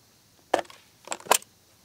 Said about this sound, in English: And let us cut another slit this way.